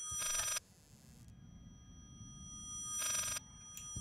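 Telephone ringing in the horror game Layers of Fear: two bursts of bright electronic ringing, each about half a second, a few seconds apart, over a low rumbling ambient drone, with no talking.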